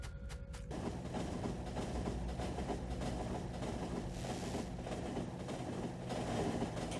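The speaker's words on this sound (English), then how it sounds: "It's our first time seeing two trains pass each other on the tracks." Trains rumbling past one another on rail tracks in the factory-building game Factorio, a steady mechanical rolling sound that holds at a fairly loud level throughout with no pauses.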